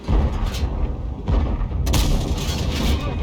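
Tank cannon fire in a tank video game: a few heavy booming blasts with rumbling tails, loud and close, over a dense background of game noise.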